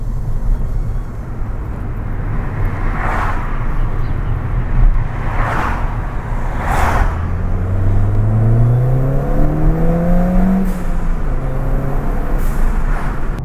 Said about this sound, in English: It sounds so good with that induction noise.